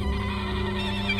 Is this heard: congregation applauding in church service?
no